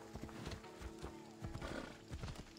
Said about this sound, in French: Mon cheval. Oui, mon cheval.